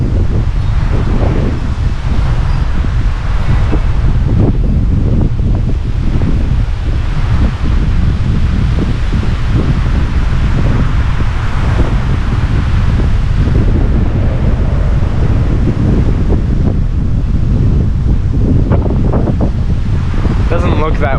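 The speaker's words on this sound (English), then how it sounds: "That was probably like a 40-mile-an-hour wind gust." Strong November wind storm gusting hard and continuously against the microphone, a loud rumbling roar with rustling, sustained throughout with no letup.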